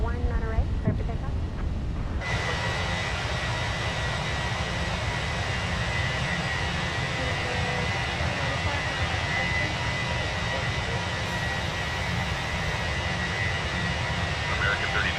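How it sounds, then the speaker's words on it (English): Airbus A321 jet powering up for takeoff in a flight simulator, a steady loud engine roar that swells after a couple of seconds and holds, with radio-style talk over it. "runway 19 right, clear for takeoff."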